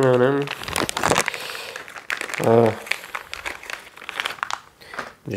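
Plastic packaging around a Tamiya RC car body being opened, giving crinkling and crumpling bursts mixed with a person talking over the handling noise.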